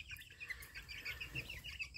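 Young chicken chicks peep in a poultry yard, a string of thin, high, repeated cheeps at a modest distance, fairly faint over a low background murmur, with no talk.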